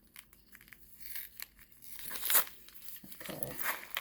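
Plastic retail packaging from a Bath & Body Works sale torn open by hand at a table, with crinkling and ripping that builds to a louder tear, close and alone.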